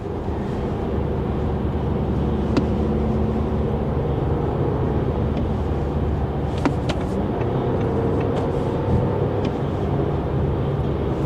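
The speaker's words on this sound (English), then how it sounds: "Now at highway speeds at around 65 miles an hour. Road noise is not too bad here." A 2025 Audi Q5 Prestige with a seven-speed dual-clutch gearbox cruises at about 65 mph, its cabin filled with a steady, broad roar of road and tire noise and a few faint clicks, with no talking.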